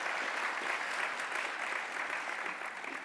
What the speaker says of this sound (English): Big applause to all of you.